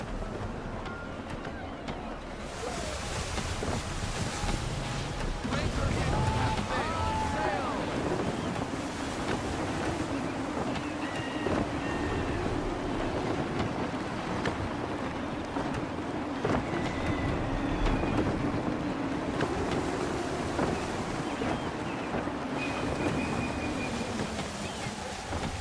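Gusty wind blows steadily around a sailing ship at sea in Assassin's Creed 3, mixed with rushing water and creaking, and voices speak over it at times.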